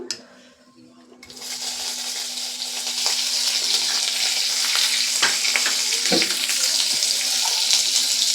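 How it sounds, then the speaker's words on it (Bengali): Chopped onion hits hot oil with fried ginger in a pan, a loud steady sizzle that swells after a brief quiet start and continues with faint stirring. "এবার এই আদার মধ্যে দিয়ে দেবো পেঁয়াজ কুচানো"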